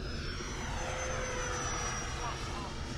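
FMS Yak-130 RC jet model at about 40% throttle, a steady electric ducted-fan whine holding one high tone over a broad rushing roar, continuous and close throughout.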